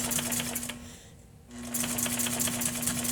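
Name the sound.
sewing machine sewing a back stitch on a box cushion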